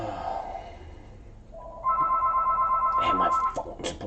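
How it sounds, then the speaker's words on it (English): A house telephone rings with a steady electronic tone that starts midway and holds loudly, with faint background sound beneath. "my phone's blowing up"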